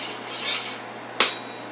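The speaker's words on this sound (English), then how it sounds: "Just gonna scrape all that off." Burnt food being scraped off a cooking surface: a soft, close rasping rub followed by one sharp scrape that tails off, with no voices.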